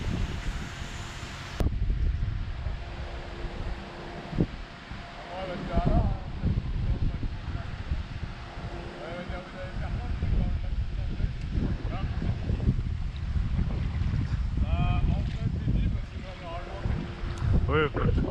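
Steady wind buffets the microphone outdoors during a fishing session on the water, a continuous rushing roar with people talking under it.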